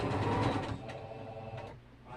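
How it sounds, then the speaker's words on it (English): A sewing machine stitches around the edge of a fabric panel, a steady buzzing run that slows and fades toward the end. "I'm going to sew this all the way around."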